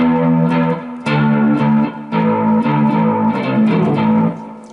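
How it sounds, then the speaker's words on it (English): A bass guitar plays a short melodic line through effects, with a wavering, chorus-like shimmer and slight grit on the sustained notes; loud and close. "Throw a couple effects on there."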